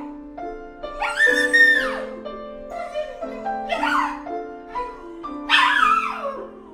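A dog whines and whimpers in three rising, high-pitched bursts over steady sustained instrumental notes from sight-reading practice, with close, fairly loud cries spaced a couple of seconds apart.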